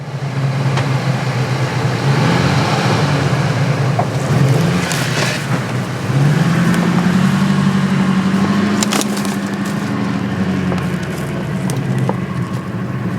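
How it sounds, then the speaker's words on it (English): An old Ford 4-wheel-drive truck with lock-in hubs and a floor-shifted transfer case labors through a giant hole: a close, loud engine drone that rises in pitch as it revs and strains, then settles, with no talking. "that was a giant hole, but the old Ford pulled through, didn't it?"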